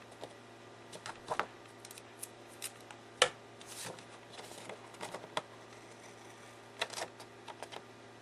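Sharp scissor snips trim excess paper and brown cardstock off a small handmade envelope mini album insert, a scattering of separate crisp cuts with quiet pauses between them over a low steady hum.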